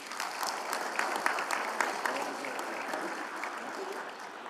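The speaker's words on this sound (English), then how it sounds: "Give another round of applause for Stephanie." Applause from the audience at a Tarleton State University leadership and service awards ceremony, honoring an award recipient: steady, dense clapping from a sizable crowd sustained evenly throughout, moderately distant and unaccompanied by speech.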